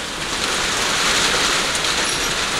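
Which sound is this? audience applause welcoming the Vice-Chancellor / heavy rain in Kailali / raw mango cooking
heavy rain in Kailali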